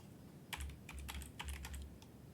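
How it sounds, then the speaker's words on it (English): Quiet typing on a computer keyboard, a short burst of about a dozen light key clicks in quick succession, close and alone. "I'm going to type Firefox."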